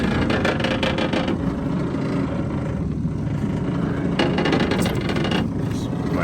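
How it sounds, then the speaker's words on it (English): A 30HP Tohatsu outboard motor starts and runs at a steady, loud idle, its continuous rumble filling the space with constant vibration and a few louder surges. "now what we're going to do is go over here and start the motor"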